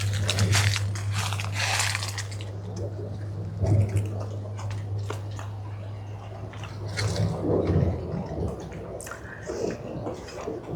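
Crunchy bites and chewing on a raw garden weed leaf, close and moderately loud, with wet mouth sounds and a steady low hum underneath, no talking.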